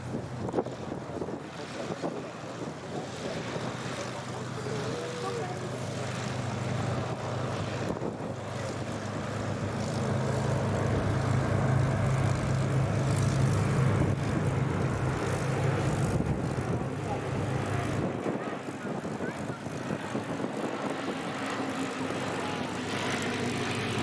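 An Avro Lancaster bomber orbits at the Duxford air show, its engines giving a steady distant drone mixed with wind noise on the microphone, growing louder in the middle of the pass before fading again.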